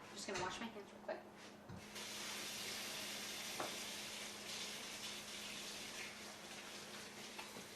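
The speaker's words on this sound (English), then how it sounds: "I'm just going to wash my hands real quick." Water runs from a kitchen tap in a steady, even hiss while hands are washed, quiet and close, with a few soft knocks at the start.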